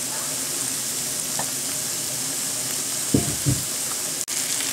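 Chopped peppers and garlic hitting a pan of frying eggplant, a steady close sizzle with a couple of soft knocks and stirring bumps partway through.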